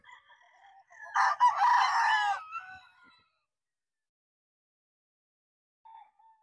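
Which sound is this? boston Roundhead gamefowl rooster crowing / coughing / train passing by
boston Roundhead gamefowl rooster crowing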